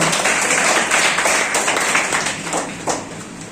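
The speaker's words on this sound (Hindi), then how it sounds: "जोरदार ताली से स्वागत" A crowd at a Teachers' Day event claps in a dense, warm round of applause welcoming a teacher, continuing without pause and easing slightly toward the end.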